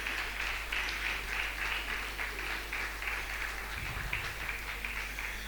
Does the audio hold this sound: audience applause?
yes